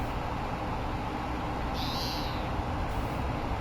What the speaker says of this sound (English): notice how there's a bunch of birds singing?